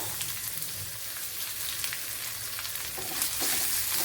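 Crushed garlic, ginger and curry leaves sauté in coconut oil for a thoran, a loud, continuous close-up sizzle that swells slightly toward the end, with no one speaking.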